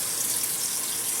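A bathroom water tap runs in a steady, continuous hissing stream, fairly close and with no voices over it.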